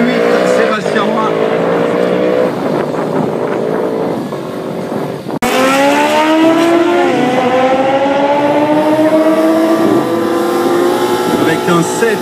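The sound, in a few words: racing motorcycle engine accelerating at drag race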